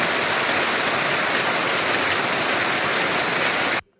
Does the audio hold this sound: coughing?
no